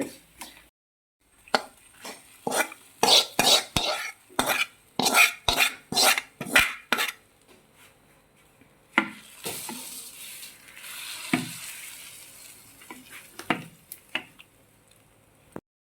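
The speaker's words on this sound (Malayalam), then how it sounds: "നമ്മുടെ തേങ്ങയും ഉള്ളിയും മുളകും എല്ലാം മൂത്തിട്ടുണ്ട്. ഇനി നമുക്ക് അതിലേക്ക് കറിയിലേക്ക് നമുക്ക് ഒഴിക്കാം." Coconut, onion and chilli tempering fried for a papaya curry is tipped into the pot, a brisk series of metallic clanks and scrapes followed by a burst of sizzling and a few final knocks.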